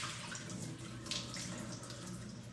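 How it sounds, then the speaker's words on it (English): Soaking water is tipped out from a bowl of snow pear pieces into a sink, a steady close rushing splash lasting the whole moment with no talk. "let me go pour out the water"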